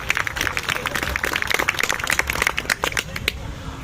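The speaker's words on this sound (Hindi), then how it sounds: "एक बार जोरदार ताली बजाओ" Crowd clapping at a Chhattisgarhi comedy poetry gathering, a burst of quick, crackly hand claps with sharp individual slaps audible throughout, moderately loud and continuous.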